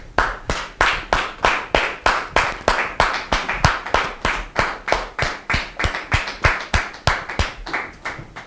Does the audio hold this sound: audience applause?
yes